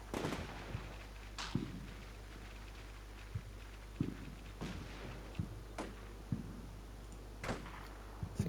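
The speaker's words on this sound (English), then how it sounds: "it's the sniper again. Taking some pot shots." Sniper shots in the Combat Mission: Shock Force 2 video game, a series of sharp isolated cracks spaced a second or so apart over a quiet hum, fairly faint and distant.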